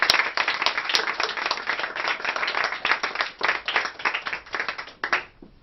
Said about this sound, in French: Acclame encore très fort.